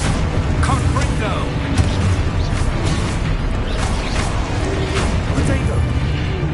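Dense, continuous booming blasts and crashes from spell combat in Hogwarts Legacy, loud and layered throughout with a player shouting spell names over the din.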